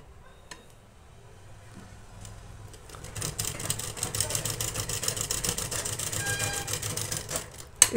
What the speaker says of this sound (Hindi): और फिर इस पर सिलाई लगाएंगे।